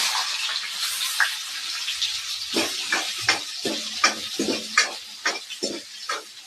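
Onions frying in hot oil with mustard seeds and cumin, with continuous close sizzling and spattering broken by repeated stirring scrapes and clinks of a utensil against the pan, no voices.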